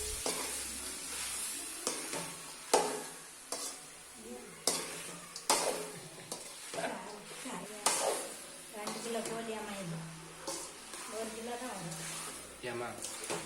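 Pieces of country chicken sizzle and crackle in hot oil, with scraping stirs and short bursts of frying throughout, while a person speaks over the cooking.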